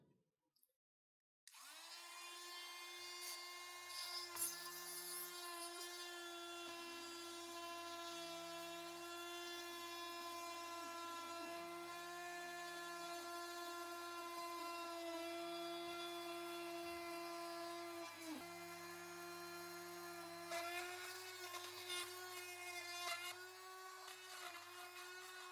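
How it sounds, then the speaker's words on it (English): A small rotary power tool whines steadily and close by for a long stretch, its pitch shifting slightly as it grinds against a hard rock base. "let's start with our little power tool here."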